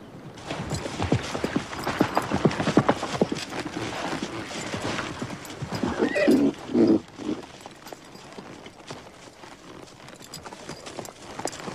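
Horses move around with steady clip-clopping hooves, with several close, uneven hoofbeats running through the scene and a brief louder burst midway that may be a neigh, with no talk over it.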